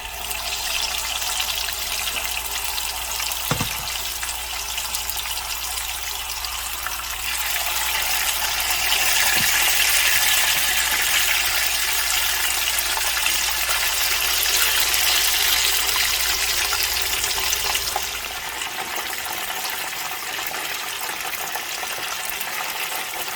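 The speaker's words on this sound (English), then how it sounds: "so now I'm just going to go ahead and add the fish" Red snapper frying in hot oil for a Jamaican brown stew, giving a steady loud hiss and crackle that swells once the fish goes in, then eases slightly near the end with no talking.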